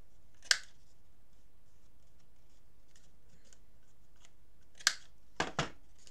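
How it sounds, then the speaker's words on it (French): Scissors trimming the corners of paper for a scrapbook album: a few sharp, isolated snips, one early, then a cluster of three near the end, close and fairly quiet. "J'arrondis mes angles."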